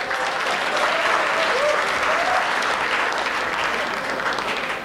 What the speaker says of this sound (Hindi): तालियां आती हैं इसमें।